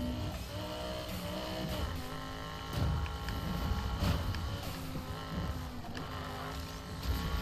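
A Nissan race car in a racing game revs hard with a turbo, its engine note loud and busy with rapid shifts and surges over a dense rumble, no talk.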